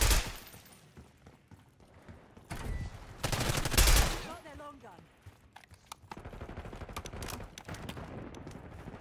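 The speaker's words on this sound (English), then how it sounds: "Vibing to the AK though." AK rifle gunfire in a video game: bursts of automatic shots crack out in clusters, loud at moments and then quieter, with softer game noise between the volleys.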